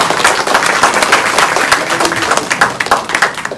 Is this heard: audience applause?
yes